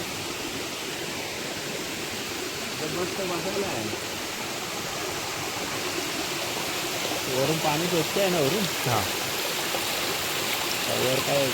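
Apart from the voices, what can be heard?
small village waterfall and stream flowing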